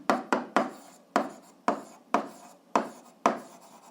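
Pen on paper while writing out the equilibrium condition of a lever, heard as a series of close, crisp strokes and taps, roughly one every half second, with no talk.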